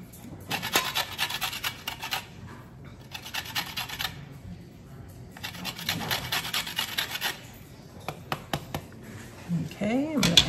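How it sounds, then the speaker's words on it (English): A fresh lemon is rubbed against a zester, giving close, dry rasping strokes in short repeated bursts with brief pauses between them. "Just gonna create a little bit of lemon zest as well."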